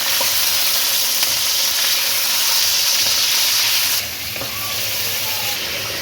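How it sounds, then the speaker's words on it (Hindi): Half a kilogram of beef pieces fries in hot oil with golden onions, giving a loud, continuous crackling sizzle that dips slightly midway as the meat is stirred. "अब गोश्त को इसमें भूनें।"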